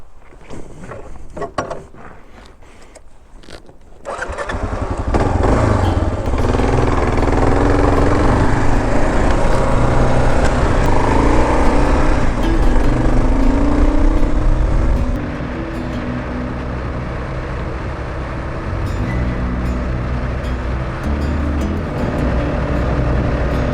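A bunch of motorcycles gather at a bike night meetup at an ice cream and dairy bar in Summerside. After a few seconds of quieter clatter, a loud, steady engine rumble of idling bikes holds close by for the rest of the stretch.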